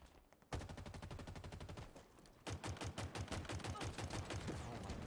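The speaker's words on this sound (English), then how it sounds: "I just mag dumped and missed almost every headshot" Rapid automatic gunfire in the video game Halo Infinite comes in two sustained bursts of evenly spaced shots, with a short pause between them, loud and close with no talk over it.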